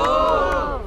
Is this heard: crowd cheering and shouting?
yes